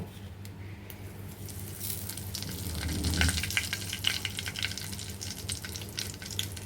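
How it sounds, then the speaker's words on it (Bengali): Cumin seeds dropped into hot oil for a hilsa curry with ridge gourd give a soft, steady sizzle that swells slightly partway through, close but fairly quiet. "তেলের মাঝে গোটা কয়েক জিরে দিয়ে দিব"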